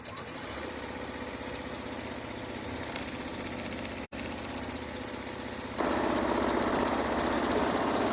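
A serger runs fast along a fabric edge while a shoe bag with a window is sewn, giving a steady rapid mechanical whir. A brief pause comes near the middle, then the machine runs louder to the end.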